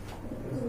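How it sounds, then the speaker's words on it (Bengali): Giribaj high flyer pigeons with feathered feet coo softly in a brief, low, murmuring burst nearby, with no talk. "এই যে দেখতে পাচ্ছেন গিরিবাজের হাই ফ্লায়ার কবুতর, পায়ে ফেদার আছে দুইটারই।"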